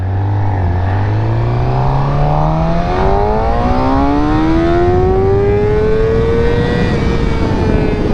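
A Suzuki GSX-R600 sport motorcycle accelerates hard in first gear, its engine note climbing in a loud rising whine that steps up sharply partway through and keeps climbing, heard up close with wind noise and no talk.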